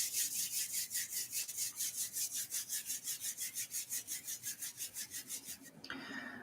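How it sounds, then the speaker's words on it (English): Hands rubbed briskly together during a yoga class, a close, steady swishing friction with even back-and-forth strokes repeating for about six seconds before stopping. "rub the hands together."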